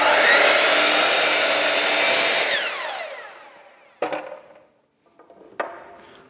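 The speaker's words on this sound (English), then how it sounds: "So I've just tilted the blade and I'll be nicking the corners off here." A miter saw with its blade tilted nicks the corners off a wooden piece for a queen-size platform bed frame, running loud then winding down, followed by two short sharp cuts, with no talking.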